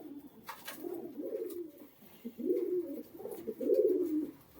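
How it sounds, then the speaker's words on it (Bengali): A male pigeon coos in soft, throaty phrases, three or four rolling bursts close by and fairly quiet against a calm background. "এটা একটা নর পায়রা"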